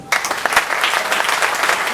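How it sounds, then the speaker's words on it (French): Audience at a youth congress in Kindu bursts into loud, dense applause after a brief quiet start, sustained clapping filling the whole stretch with no talk over it. "applaudissons très fort, très fort"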